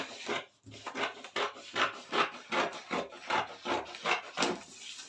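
Scissors cutting fabric for a gown yoke, a rapid series of close, crisp rasping snips in a steady rhythm, about a dozen strokes with no talk.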